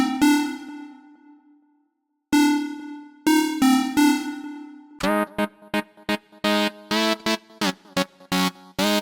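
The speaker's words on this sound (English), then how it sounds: "Then we have this lead called Arcade, which sounds really retro and can work really well as top lead." Retro synth lead patch named Arcade for tech house and indie dance: bright buzzy harmonic notes, first a few long sustained tones with pauses, then a rapid run of short staccato stabs, loud and alone.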